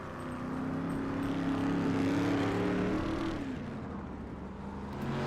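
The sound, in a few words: race cars passing on track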